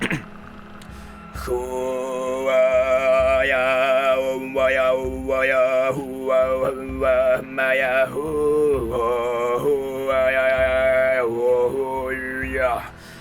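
A single close voice sings in the Khoomei throat singing style, a steady buzzing drone with bright overtone melodies gliding and stepping above it, sustained in long phrases with short breath breaks.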